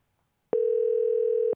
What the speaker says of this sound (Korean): 자, 전화를. 자, 다시 한번 걸어보도록.